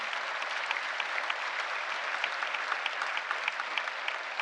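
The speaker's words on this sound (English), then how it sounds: "Let's give them a round of applause as well." Steady audience applause for state legislators at a Brooklyn town hall meeting about the BQE, a dense even wash of many hands clapping with a few sharper claps standing out, filling the room with no speech over it.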